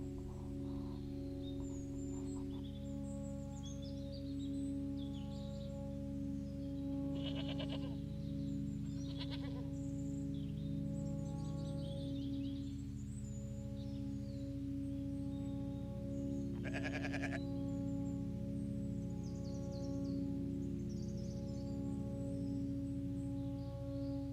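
Goats on a permaculture farm with movable electric fencing, giving a few scattered bleats over a steady, loud droning hum that runs throughout.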